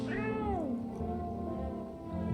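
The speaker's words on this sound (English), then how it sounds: "I want to pick up the cat." A cat gives a single clear, drawn-out meow that bends downward in pitch, close and fairly soft, followed by quieter purring or low background sound.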